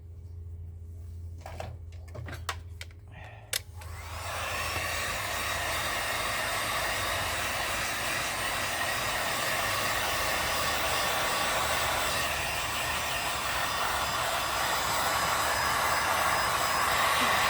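A hair dryer set to 7 blows over painted wood pieces, starting with a few clicks and handling knocks before a loud, steady airy roar kicks in and continues to the end.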